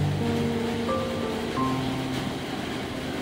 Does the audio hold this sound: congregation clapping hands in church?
no